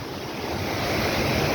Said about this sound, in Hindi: वो पानी की लहर, वो पानी की गुंजाइश।